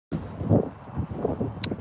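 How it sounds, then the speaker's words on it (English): Wind gusts across a microphone outdoors at a protest on a cold day, producing a steady low rumbling buffet with no clear speech. "But it's windy."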